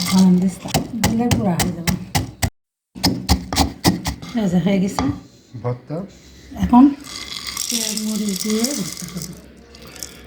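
Fried ingredients such as garlic, black cumin and dried lentil dumplings are pounded in a mortar and pestle. A run of sharp, regular knocks comes first, then more scattered thumps, with people talking over most of it.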